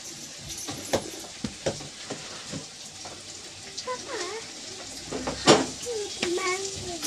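Rice frying in a pan in a home kitchen, with soft sizzling and stirring clatter, intermittent scrapes and utensil taps, while someone talks and other voices sound nearby.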